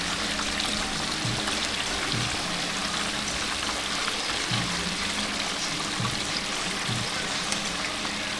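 Chicken frying in hot oil at a Jamaican street food stall, a steady dense sizzle and crackle running throughout with no break, close and fairly loud, with faint low background noise beneath.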